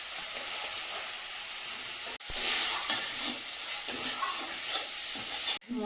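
Spiced masala with turmeric and Kashmiri chilli powder sizzling and frying in a pan, a steady bright hiss that surges louder midway as it is stirred, with occasional scraping, close up and without voices.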